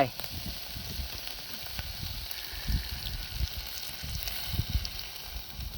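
Water poured into a hot pan on a campfire stove at a rural farm hut, crackling and sizzling steadily with bursts of bubbling spatter close by.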